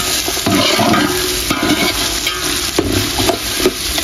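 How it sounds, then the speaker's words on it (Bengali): Carrots fry in a pan for a duck and pulao dish, a steady hissing sizzle broken by repeated scraping stirs of a utensil against the pan, close up and with no talking. "গাজর দিয়ে আরেকটু ভেজে নেব"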